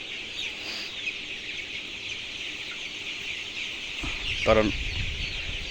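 A flock of 21-day-old Kalabati chickens on a poultry farm clucks steadily over a constant farm hum, with a brief louder burst near the end and a single spoken word.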